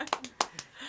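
Three or four sharp hand claps sound close and loud, spaced irregularly during a virtual folk music broadcast, with a soft background murmur between them.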